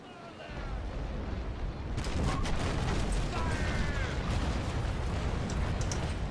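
A broadside of sailing-ship cannons fires in Naval Action, with rolling, overlapping booms building into a sustained thunderous roar after a quieter windy opening, loud and close.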